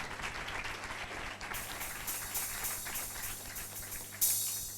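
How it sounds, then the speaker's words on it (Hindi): A church congregation claps for God during a sermon, with steady, moderately distant applause throughout and a brief louder burst near the end. "जोर से परमेश्वर के लिए तालियां बजाएं।"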